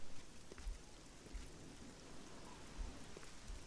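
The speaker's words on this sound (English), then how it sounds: "Oh no, not rain. Not in this cold place." Steady rain falls in the video game Oblivion in a cold outdoor place, a dense, even hiss of drops with faint low rumbles, with no talk.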